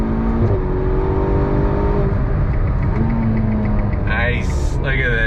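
A Ferrari GTC4 Lusso T engine pulls hard on throttle on a wet track, a loud rising engine note with gear-shift dips and a brief high whine near the end, with a voice talking over it.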